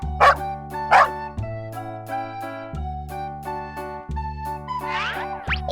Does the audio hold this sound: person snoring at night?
no